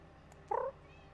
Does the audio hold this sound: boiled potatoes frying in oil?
no